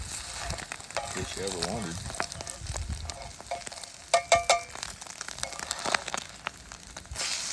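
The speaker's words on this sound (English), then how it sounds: "that's what happens when you throw 2 eggs in a skillet that's about to catch on fire" Two eggs hit a dangerously overheated skillet at a camp cookout, bursting into loud irregular crackling and spattering pops with scraping, while someone talks briefly over it.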